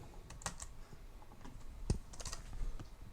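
Someone types on a computer keyboard, producing light, irregular key clicks close by, with a few sharper taps standing out.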